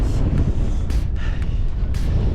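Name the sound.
strong wind on a hilltop trail run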